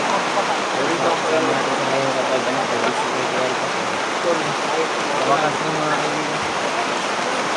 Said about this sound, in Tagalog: sobrang ulan talaga